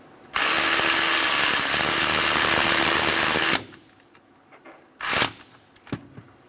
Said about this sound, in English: Install the other 14mm bolt into the starter. Snug the bolts down.